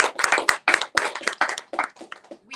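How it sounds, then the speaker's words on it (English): A small group claps at an awards ceremony, with sharp, fairly close, irregular hand claps for a couple of seconds before thinning out. "Another round of applause, please."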